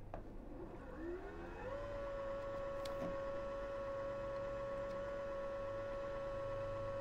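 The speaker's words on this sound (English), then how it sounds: "let's just wind this up a little bit, some thread on here" A sewing machine winds thread onto a bobbin with a steady motor whine that rises in pitch during the first two seconds, then holds at an even, continuous tone with a faint background hum.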